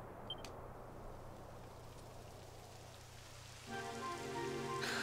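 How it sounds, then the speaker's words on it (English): Steady rain pours down in the Dragon Quest XI video game, a constant soft hiss that swells louder near the end as a brighter, busier layer of patter joins in. "It would have to go and start raining, wouldn't it?"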